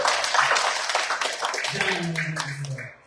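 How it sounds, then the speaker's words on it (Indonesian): Church congregation clapping in praise during a Christmas Day worship service in Batam, a dense broadband patter of many hands running throughout, with sustained voices or singing beneath and a brief dropout at the end. "berikan tepuk tangan Tuhan"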